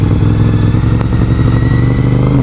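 Suzuki SV1000S V2 motorcycle engine pulling loud and steady through a tight, bumpy hairpin corner, a deep continuous throbbing drone close up with no voices.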